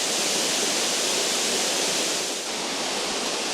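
Arwin Falls, a waterfall on a river lined with big mossy rocks, gives a continuous, close, full roar of rushing water with no break.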